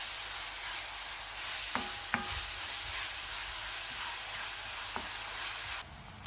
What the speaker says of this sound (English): In a pan, add a 1/4 cup of oil and toss in 2 chopped onions. Fry them for about 5 minutes